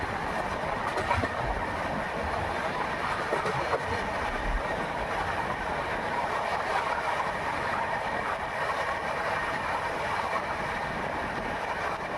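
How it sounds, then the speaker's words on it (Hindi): Kolkata Express 13152 passenger train running on rails between stations, a steady close rumble with faint clickety-clack of wheels over joints, continuous and loud throughout with no talking. "तो फाइनली अब हमारी ट्रेन पहुंच चुकी है अपने पहले हॉल्ट सोहावल रेलवे स्टेशन पर।"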